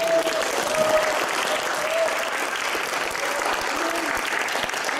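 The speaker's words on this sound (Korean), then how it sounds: "일어나서 인사할 때 뜨거운 박수" Warm applause for a pastor introduced before a church congregation fills the whole stretch, a steady, dense clatter of many hands with a few faint voices and tones threaded through.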